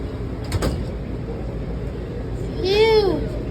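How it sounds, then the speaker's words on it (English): A metro train's sliding door closes with a short clunk, followed by a rising electronic chime, heard indoors over a low background hum. "The door was able to close that time."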